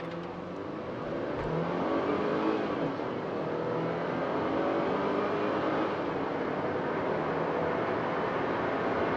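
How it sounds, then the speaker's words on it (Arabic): A Volvo XC40 crossover accelerates hard during a 0–100 acceleration test, its engine note rising and holding as a steady, loud interior roar with road and wind noise, no voices. "خليني أفرجيكم تجربة التسارع."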